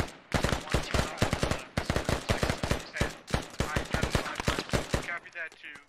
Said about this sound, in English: looks like the British are actually firing back pretty close, actually, to the INS Mosque